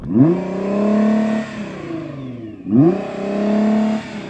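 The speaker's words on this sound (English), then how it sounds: "So I'm going to rev up this Nissan." A Nissan car engine is revved twice in a sound check before a race, each rev climbing sharply, holding near the limiter, then dropping back, loud and close with a brief lull between the two.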